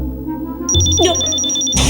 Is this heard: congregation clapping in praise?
no